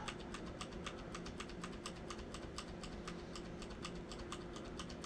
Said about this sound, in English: I'm just going to spam the letter F here.